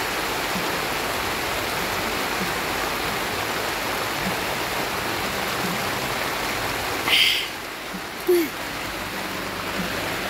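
Heavy rain falling in a steady, dense wash of noise that fills the background, with a couple of brief louder bumps near the end.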